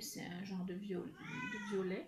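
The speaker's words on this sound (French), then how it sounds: "c'est le chat qui est en chaleur, donc elle fait du bruit." Drawn-out, wailing cat meows rise and fall beneath a woman's brief spoken remark, close and fairly loud.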